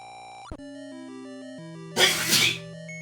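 A single loud, explosive sneeze bursts out over the tinny chiptune music of the NES Legend of Zelda during a game stream.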